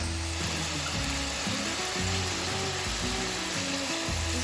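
Chuck roast beef browning in a pan for a stew, a dense, steady sizzle close up with a low rhythmic mechanical thrum beneath it, no speech.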